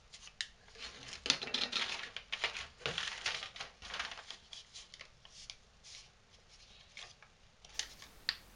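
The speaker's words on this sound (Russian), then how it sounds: "После все лишнее обрезаем обычными ножницами." Ordinary scissors snip away excess material during a DIY fix for a humming transformer, with repeated crisp cuts in an irregular rhythm, close and fairly quiet, and no voices.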